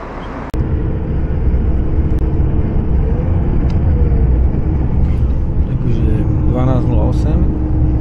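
Long-distance coach bus driving on a route in Chile, heard from inside as a steady loud engine and road rumble, with brief voices and faint clinks over the drone.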